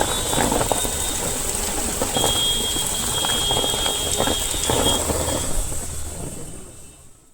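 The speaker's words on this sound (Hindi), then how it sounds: "मूसलाधार बारिश हुई।" Torrential rain pours down in a Hyderabad street, a loud, steady hiss with heavy drops, with a faint rumble of thunder underneath before it fades out.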